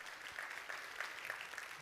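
Audience applause rolls steadily at a conference main stage, a faint, even wash of many hands clapping from a distance, with no break.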